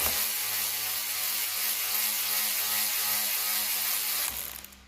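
A tool winds a bolt out of a Mini Cooper engine during a rebuild, a loud, continuous mechanical whir that runs for over four seconds before cutting off abruptly.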